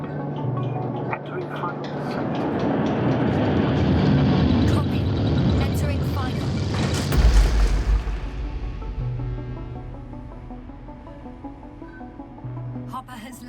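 A spacecraft hopper descends and lands in the video game The Invincible, a loud rumbling engine roar that swells and peaks with a deep thud midway, then eases into a lower hum.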